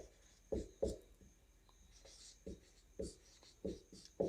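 Pen writing on paper while a math solution is worked out, soft separate scratching strokes in short bursts, close and quiet, with no talking.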